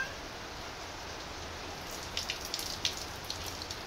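Steady hiss of heavy rain falling, with sharper drip and splash hits growing more frequent toward the end.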